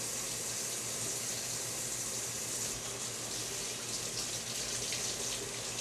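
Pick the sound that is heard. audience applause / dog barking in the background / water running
water running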